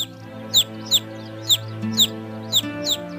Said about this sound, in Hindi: कोई पक्षी मुसीबत में लगता है।